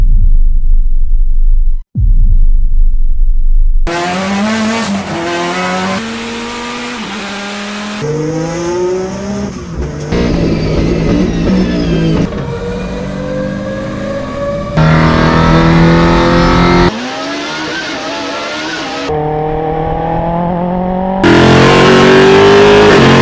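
Race cars fitted with straight-cut gearboxes accelerate hard in a rapid series of loud close passes, each engine climbing through gears with a whining, high-pitched gear howl and sharp shifts, sudden cuts between cars, no talk.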